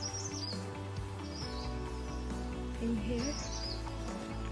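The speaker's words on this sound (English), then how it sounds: "we can even record birds' voices" Birds chirp and sing intermittently along a quiet hiking trail, small bright calls coming and going over a low steady background hum, with a person briefly speaking nearby.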